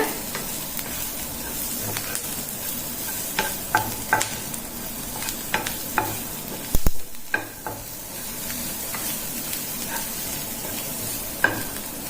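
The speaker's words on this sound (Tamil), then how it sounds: "ரொம்ப தீய விடாம திட்டமா வதக்கி எடுத்துக்கலாங்க." Onions and green chillies sautéing in ghee for egg masala dosa sizzle steadily up close, while a spatula scrapes and taps the pan in irregular strokes, with a louder clatter midway and no voices.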